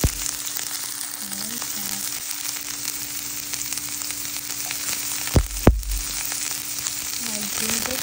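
Onion sautéing in a pan, a steady bright sizzle with a couple of sharp clanks from a utensil, someone briefly speaking over it.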